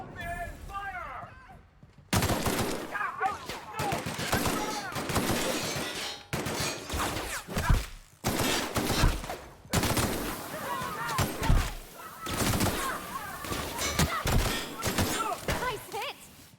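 Gunfire in the video game The Outer Worlds: repeated bursts of rapid shots, sharp and loud, broken by brief pauses, while people speak now and then between the volleys.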